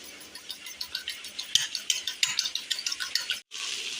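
Two eggs with a little salt are beaten hard in a bowl, producing a rapid, even run of sharp clicking strokes. The beating pauses briefly near the end and then resumes. The sound is close and clear, with no talking.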